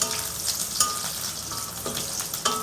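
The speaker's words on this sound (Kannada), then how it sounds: "ಬೆಳ್ಳುಳ್ಳಿನ ಹಾಕ್ಕೊಂಡು ಸಣ್ಣದಾಗಿ ಇವಾಗ ಬಾಡಿಸ್ಕೊಳ್ತಾ ಇದ್ದೀನಿ" Garlic sautéing in a pan for vegetable fried rice, a steady hissing sizzle broken by several brief scraping clinks of a spatula stirring, close and alone without voices.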